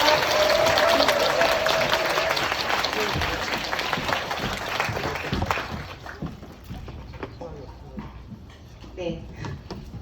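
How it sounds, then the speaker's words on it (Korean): An audience at a one-day seminar claps together, loud sustained applause that gradually thins into scattered claps, with a presenter's voice speaking through it. "옆에 앉아 계신 리더님들에게 칭찬의 박수를 보내며"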